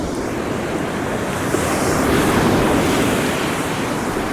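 Small Pacific surf waves break and wash on the shore in a loud, close roar that builds midway, with wind buffeting the microphone and no talking.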